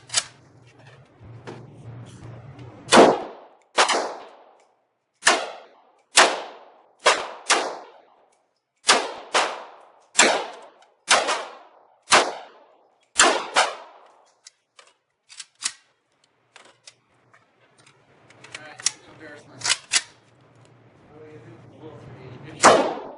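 A DDI AK-47S Zhukov Edition rifle fires at an outdoor shooting range: about a dozen sharp, loud, close reports in an irregular rhythm, with short pauses between shots and some background talk.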